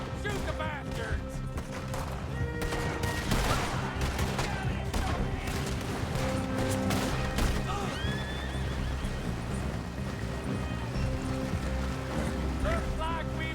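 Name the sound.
gunfire in Red Dead Redemption 2 video game shootout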